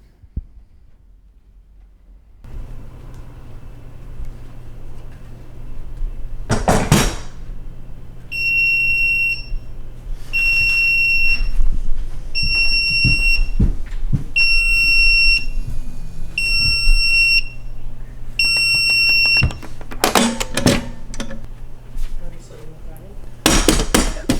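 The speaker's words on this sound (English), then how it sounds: "So the alarm goes off with just a little bit of movement and picking up and rattling around." An Eufy Smart Safe S12 motion alarm sounds in a series of six sharp, high-pitched repeated beeps as the safe is moved, with handling clatter and rattling before and after.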